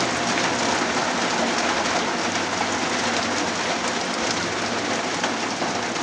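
Steady rain falls on an outdoor house-building site, a dense, even hiss of drops on surfaces that holds at constant loudness throughout, with no voices.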